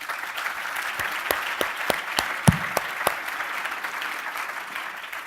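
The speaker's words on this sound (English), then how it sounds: "Let's give Ryan first a round of applause." An audience at a formal debate applauds debater Ryan, a steady wash of many hands clapping at moderate loudness, with a few sharper individual claps standing out near the front throughout.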